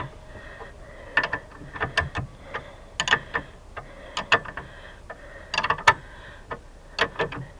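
Ratchet clicking in irregular bursts while tightening a tie rod ball joint nut on a Polaris RZR XP 1000, close and crisp with short pauses between strokes.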